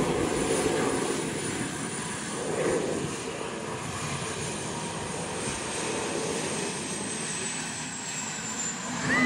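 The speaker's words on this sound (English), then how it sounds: "Sounds like a jet flying overhead." A jet turbine engine fitted in a Camaro runs with a steady, loud whining roar and a high whistle, swelling slightly at moments as it carries on without pause.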